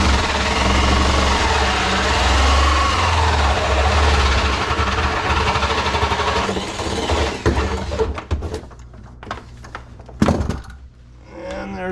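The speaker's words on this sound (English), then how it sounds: "I'm drilling out the hole for the drain hose, and then one for the water line." A cordless drill with a roughly 2-inch hole saw cuts a hole through a kitchen cabinet for a dishwasher drain hose: a steady loud grinding drone that stops near the end, followed by a few knocks and clunks.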